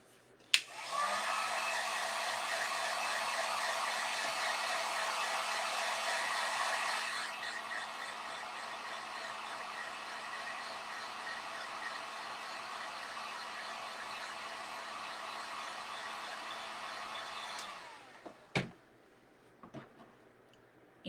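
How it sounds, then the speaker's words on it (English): A heat gun drying black paint on scarecrow wall decor blows a loud, steady close-up roar, dropping to a lower setting partway through before switching off, followed by a few light handling knocks. "I'm going to dry that with my heat gun"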